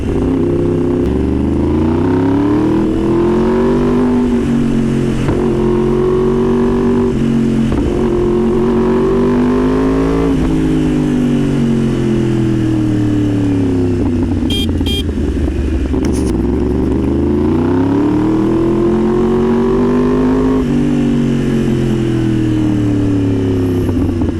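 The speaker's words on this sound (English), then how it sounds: "this 2018 model and this is auto blipper. So upshifting and downshifting clutchless." A 2018 Yamaha R1 sportbike revs loud and close while riding, its engine pitch climbing and dropping through a series of clutchless auto-blipper upshifts and downshifts.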